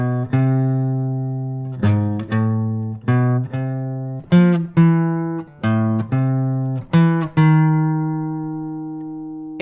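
Acoustic guitar plays the opening phrase of a theme's verse, a run of clear plucked notes with sustained ringing tones, played alone at moderate loudness for beginners.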